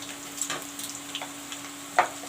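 Onions and green chilies fry in a pan with a soft, steady sizzle and a few light crackles, ending in one brighter pop, all close and moderately quiet.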